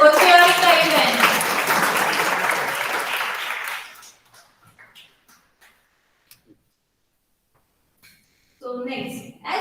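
An audience at a National Mathematics Day event applauds loudly for about four seconds, then the clapping stops abruptly into near silence before another brief sound rises at the end.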